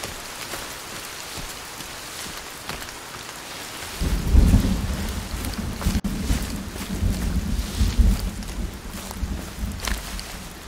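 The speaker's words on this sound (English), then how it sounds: "Now it's raining." Rain and rolling thunder in the survival game Sons Of The Forest: a steady hiss of rainfall, then a deep rumble of thunder swells in and lingers under continuing downpour.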